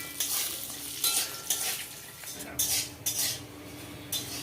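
Lentil dumplings (bori) frying in plenty of oil, with a soft sizzle under repeated metal spatula clinks and scrapes against the pan.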